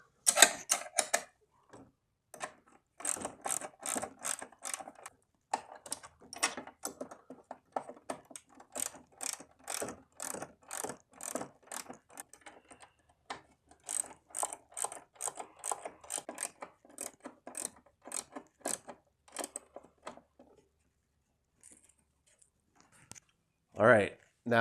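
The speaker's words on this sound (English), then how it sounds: "got a 1/2-inch wrench" Rapid ratcheting clicks in repeated bursts from a 1/2-inch ratchet wrench tightening baffle bolts on a Toro TimeMaster lawn mower, close and crisp, with brief gaps between runs of clicks.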